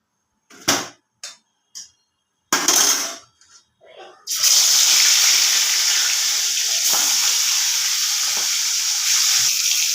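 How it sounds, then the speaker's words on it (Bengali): Fish marinated with salt and turmeric dropped into hot oil: a few sharp clinks and splashes, then a loud, steady sizzle and crackle of frying that runs on without pause. "আর মাছটা আমি এখন ভেজে নেব।"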